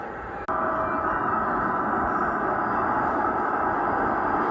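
Steady low rumble of a train moving along the tracks, constant and close, following a brief abrupt break at the start.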